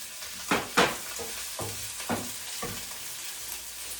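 Green chilies dropped into hot oil in a home kitchen for a Tamil vegetable and masi curry, giving a few sharp sizzling bursts early on that settle into a quieter crackle.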